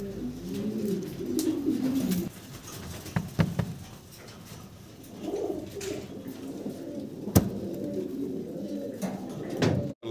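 Large fancy pigeons coo softly in low, repeated, rolling calls, with faint shuffling and tapping around them and no talk.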